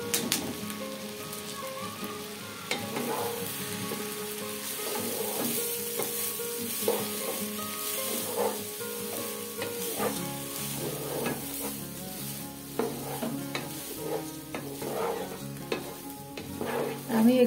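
Soaked, washed food goes into a pan with tomatoes and sizzles as it is stirred. Scraping strokes come at an uneven rhythm over a steady crackle, close and clear.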